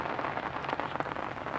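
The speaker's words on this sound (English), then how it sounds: "You can see it's raining anyway." Rain falling at a day-ticket carp fishing pond at St Johns, Linear Fisheries, a soft, steady patter of drops across the water and surroundings, fairly quiet and continuous with no one talking.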